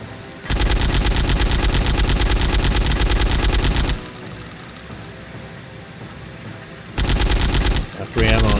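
Rapid automatic gunfire from the zombie game Land of the Dead: a loud, continuous burst for about three seconds, a lull filled with rumbling game noise, then a second shorter burst.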